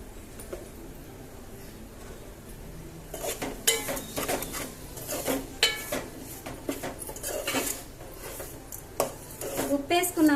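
A ladle stirs vegetables in a cooking pan, with irregular metallic clinks and scraping that grow busier after a quieter start and continue at close range.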